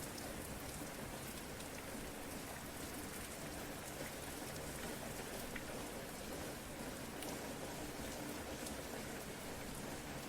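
Steady rain falls without pause, an even, close hiss of drops on surfaces that holds at a constant level throughout with no voices.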